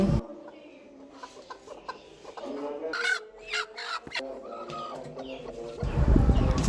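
A broody hen sitting on eggs clucks in short, irregular bursts, fairly close, amid rustling and other background noise.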